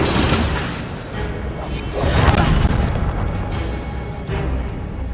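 The Incendio fire spell being cast in Hogwarts Legacy: several loud whooshing booms and fiery bursts in quick succession, each swelling and fading, with shattering impacts between them.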